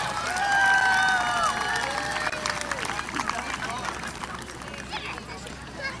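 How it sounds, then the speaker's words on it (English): Crowd applause and cheering for young players at a high school football game, Heritage versus Leakey ISD, a scattered outdoor clapping and shouting in the stands, loudest early then thinning, with voices and children's calls mixed in. "Give them a round of applause."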